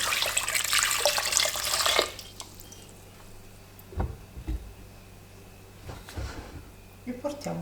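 Water gushes from a tap into a pot for about two seconds, then stops, followed by scattered drips and light clinks of the pot.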